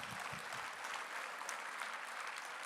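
An awards banquet audience claps for a high school quarterback being honoured: broad, even applause from a crowd, faint and distant throughout.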